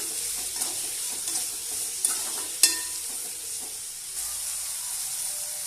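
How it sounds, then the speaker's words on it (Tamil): Tomatoes with salt sautéing in a pan for dried-fish thokku, with a soft continuous sizzle and occasional stirring scrapes and taps, close but fairly quiet. "சேர்த்து நல்லா வதக்கி விட்டுக்கலாம்."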